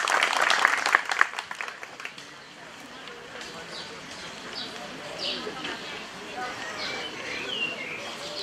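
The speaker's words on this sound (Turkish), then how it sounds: "Efendim kuvvetli alkışlar istiyorum." An audience claps at the opening ceremony of a traditional halva day in Eğirdir, with a short, dense burst of applause that quickly fades into open-air ambience and scattered bird chirps.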